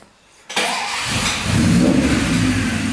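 A Murat 124 car engine with a Weber carburetor catches and revs up loudly, then holds a rough, throaty roar at steady high revs.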